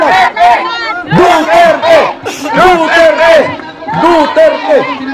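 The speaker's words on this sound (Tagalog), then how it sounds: "Basta sigawan lang po, Duterte." A large rally crowd in Cebu chants the name Duterte in loud, rhythmic, repeated bursts of massed voices, close and continuous.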